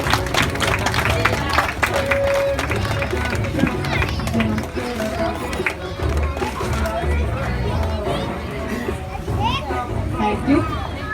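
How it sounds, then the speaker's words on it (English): Scattered applause from a graduation day audience mixes with busy chatter, children's voices and movement noise, a lively, crowded scene with talk throughout and clapping that never stands out clearly on its own. "Big round of applause to Agastya's parents"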